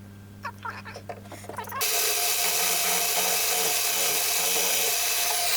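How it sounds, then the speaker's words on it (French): A milling cutter grinds down a wooden piece clamped in a vise. After a few soft knocks and scrapes, a loud, steady, harsh grinding roar starts and holds to the end. "Je vais la fraiser en fait."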